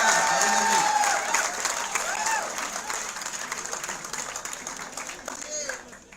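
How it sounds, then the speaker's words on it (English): Audience applause at a college innovation cell session on career opportunities: dense clapping that starts loud and gradually fades out, with a voice speaking over it. "So big round of applause."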